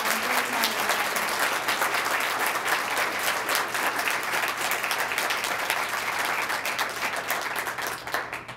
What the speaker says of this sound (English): Let's give all of our students a quick round of applause.